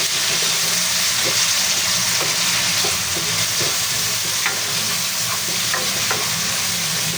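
Tomatoes and chili peppers sizzling loudly in a frying pan for a Filipino coconut-milk dish, with a steady hiss of frying and occasional light stirring clicks, close up and continuous with no voices.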